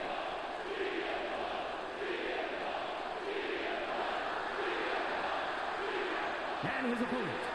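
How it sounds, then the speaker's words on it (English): A large arena crowd roars continuously in the WWE 2K24 wrestling game during a Monday Nitro entrance, a thick, steady wall of cheering with swells, and a brief higher whoop near the end. "Listen to that crowd."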